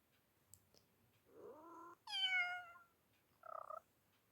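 Several cat meows from a video game, close and clear, one rising and drawn out, with short pauses between, over a quiet background.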